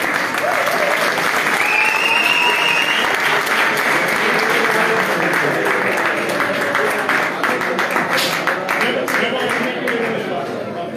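Audience applause at a homebrew beer competition awards ceremony, loud and continuous throughout, a dense roar of clapping with cheers and crowd voices mixed in.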